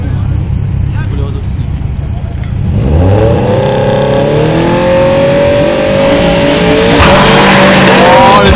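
A Subaru Impreza with all-wheel drive accelerates hard and turns, its engine note climbing steadily and loudly, then surging again near the end.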